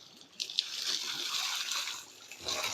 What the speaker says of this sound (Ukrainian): вода стікає тим жолобом по трубі і сюди і пішла в ставок